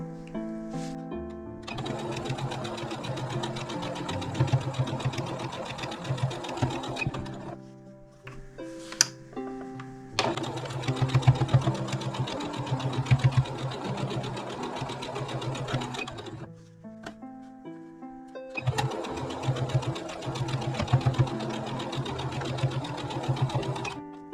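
Sewing machine stitching fabric pieces into a hexagon for a rug, running in three long steady bursts of rapid mechanical stitching separated by short pauses, close and clear with no talk.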